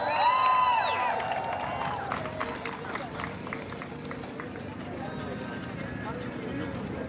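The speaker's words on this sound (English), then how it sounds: "Let's give a big round of applause." An outdoor crowd at a rally protesting anti-Asian hate crimes claps and cheers, the applause swelling loud at first with a few shouts and whistles, then settling into a steady roar of clapping.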